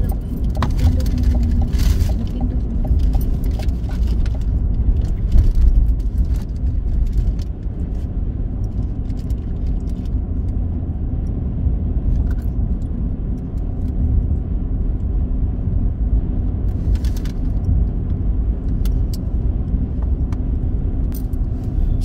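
A car rolls along Highway 2A near Red Deer, Alberta, heading back to the freeway, giving a steady low road rumble and tire noise throughout, with faint rattles and clicks from inside the cabin.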